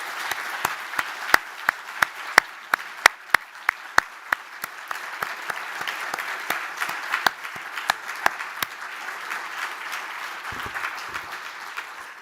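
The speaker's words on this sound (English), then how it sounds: "So a big applause to them." An audience at a conference on the EU Merger Regulation applauds, with distinct individual claps over a steady, moderately quiet patter lasting the whole stretch.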